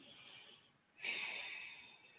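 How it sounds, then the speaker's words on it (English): Deep yoga breathing in a downward facing dog pose, one long slow exhale fading out, then a pause and a strong airy inhale that tapers away, close and alone. "Breathing."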